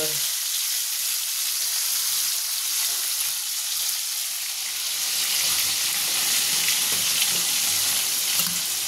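Fish pieces fry in oil in a kadai, giving a constant, loud, close sizzle and bubbling hiss that stays even throughout, with no talking.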